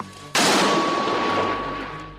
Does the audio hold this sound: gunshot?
yes